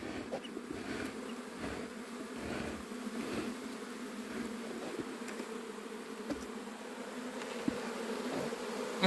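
Africanized honey bees hum inside a hive box being moved to a standard box, a soft, steady buzzing swarm heard close up with a few louder passes of individual bees.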